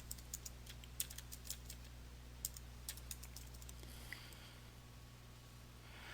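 Someone typing a short name on a computer keyboard, a quiet run of light key clicks over a steady low electrical hum, then fading to near silence.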